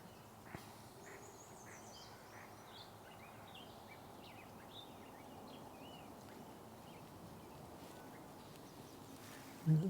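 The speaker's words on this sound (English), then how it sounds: "the Swainson's thrush we're hearing" A Swainson's thrush sings faint, distant spiraling phrases in a marsh over a low, steady background rumble, ending in a brief close thump.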